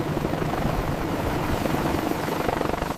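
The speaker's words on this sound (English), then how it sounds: "Extreme noise and powerful rotor wash cannot distract." Helicopter during a military special-forces extraction, a steady loud rotor and engine roar with a dense wash of noise that holds constant before cutting off abruptly.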